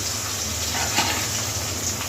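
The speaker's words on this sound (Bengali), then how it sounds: "তেলটা গরম হয়ে গেছে এবার মাছগুলো একটা করে দিয়ে দিই" Fish pieces frying in hot oil in a used kadai make a close, continuous sizzling hiss at an even level, with no talking.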